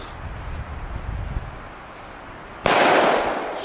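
A Belgian banger firecracker bursts with one sharp, loud crack after a low rumbling lead-in, followed by a lingering hissing, crackling tail, with no voices.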